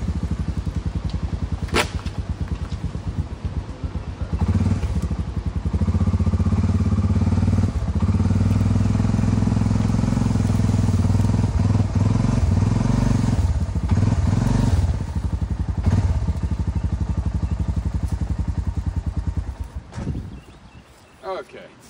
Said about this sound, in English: I'm just going to hook it onto my four-wheeler, see if I can pull that slack out good